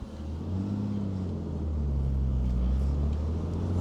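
Ford Falcon BA XR6 Turbo with a manual gearbox cruising along, giving a steady, continuous low engine drone and road rumble with no voices.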